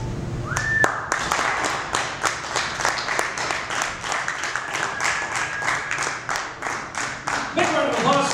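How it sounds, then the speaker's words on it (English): Applause from an open mic crowd at a bar, a steady run of sharp claps lasting several seconds at close range, with a brief voice and a sustained tone near the start and chatter rising at the end. "Big round of applause for Steve!"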